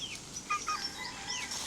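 Pet chickens at snack time in the Philippines, clucking softly and faintly in short scattered calls throughout, with no talking.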